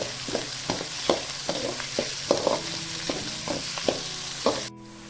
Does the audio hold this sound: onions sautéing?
yes